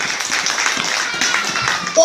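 Church congregation clapping in praise of Jesus, a quick run of hand claps with people's voices mixed in, ending on a brief louder burst.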